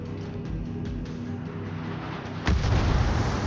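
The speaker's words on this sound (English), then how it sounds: "that cruiser starts firing high explosive at me" In World of Warships, a cruiser fires high explosive shells: a sharp boom lands a little past halfway, followed by a louder, sustained rumbling roar over a continuous background of gunfire and engine noise.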